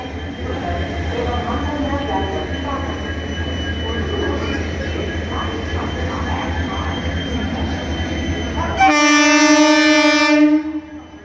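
A train runs through a railway station toward Ghatshila, with a steady heavy rumble and grinding wheels, then a loud sustained horn blast near the end, close and dominant.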